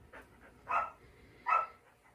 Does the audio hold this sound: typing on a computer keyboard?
no